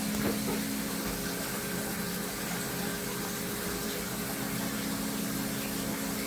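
A motor water pump runs steadily during a flood, a constant droning hum with tonal bands, moderately loud and uninterrupted with no talking.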